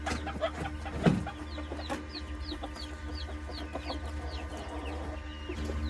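A rare, fancy-breed hen clucks in short repeated bursts at close range, with small birds chirping faintly behind it in an aviary.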